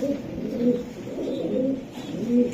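Racing pigeons coo in a steady run of soft, low, rolling calls, three swelling phrases close by with no talk over them.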